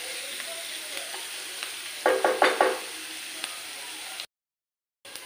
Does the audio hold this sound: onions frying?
yes